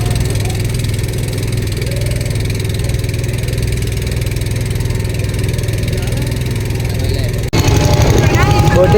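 A motor boat engine at Omkareshwar runs with a steady, close, droning hum and low rumble, then a sudden louder shift near the end as voices and noise come in.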